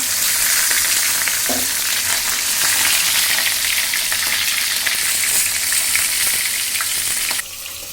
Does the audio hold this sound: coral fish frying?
yes